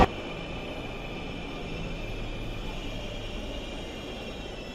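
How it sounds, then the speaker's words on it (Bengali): A metro rail train pulls into the station with a steady broadband rumble and hiss that holds evenly throughout, without talk. "এই যে দেখতে পাচ্ছেন ট্রেন চলে এসেছে"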